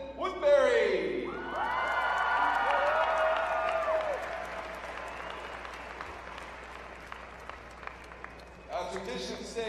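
A high school graduation crowd breaks into applause and cheering with whoops, swelling quickly and holding as a dense, sustained wash of clapping before thinning out near the end, with a voice heard at the start and close.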